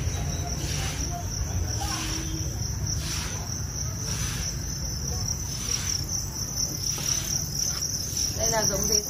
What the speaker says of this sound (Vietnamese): Đây là giống dế Thái thì con nó to.